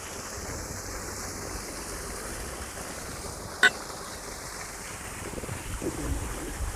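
Water gushing from a fast motor pump into a farm field for onion planting, a steady broad rushing wash outdoors with wind buffeting the microphone and one sharp click midway.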